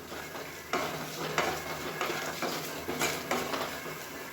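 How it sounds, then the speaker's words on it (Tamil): Red poha and grated coconut fry in ghee in a pan for a Krishna Jayanthi puttu, giving a steady close sizzle with repeated scraping stirs and no voices. "அப்படியே பொரிஞ்சு வருது பாருங்கள் தேங்காய் வந்து அந்த எண்ணெயில்."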